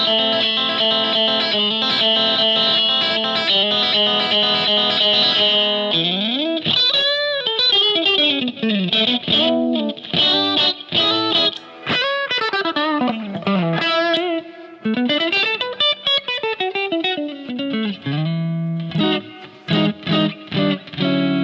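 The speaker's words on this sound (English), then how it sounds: "So there's a bit of breakup going, actually a bit of hiss as well." An electric guitar through a Positive Grid Spark Mini amp plays sustained chords and bending, sliding notes with distorted breakup and chorus-like effects, loud and continuous, with a faint hiss beneath.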